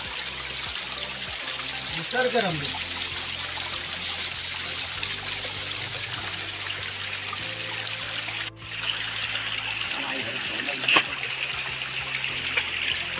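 Steady trickling and gushing water runs from an irrigation pipe line in Konkan during the first rain, fairly close, with a faint low hum and a couple of brief clunks.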